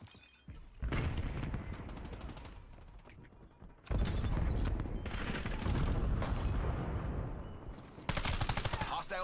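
Rapid bursts of gunfire from a gun in a Minecraft modpack game, heavy and loud in several sustained volleys separated by brief lulls, with a louder final burst near the end.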